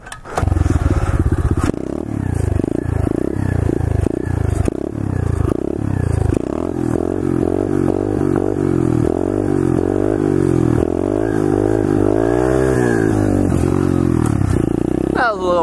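Pit bike engine revving hard and loud through a short one-footer wheelie, rising and falling pitch with gear changes, close up, with outdoor clatter and brief shouting voices mixed in.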